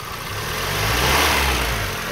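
A car engine revs up quickly and settles back, a close, steady droning rise and fall that lasts only a couple of seconds with no voices.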